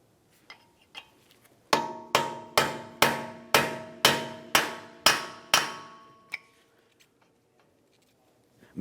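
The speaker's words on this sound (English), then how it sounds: "Use a hammer and punch to break the axle free from the wheel bearing assembly located behind it." Hammer and punch striking the axle to free it from the wheel bearing on a 1994-1997 Honda Accord, ten evenly spaced sharp metallic blows ringing out close and loud with a few lighter taps before and after.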